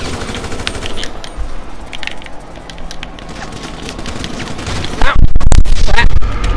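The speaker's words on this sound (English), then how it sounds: "And then there was a guy who's shooting me at the other side." Gunfire in the video game GTA: scattered cracks early on, then a loud close rapid burst of automatic shots near the end.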